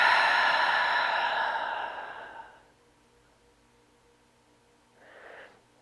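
Slow, heavy breaths during a guided upper-body fascial release exercise: a long breathy exhale fading over a couple of seconds, then a short quieter breath after a pause.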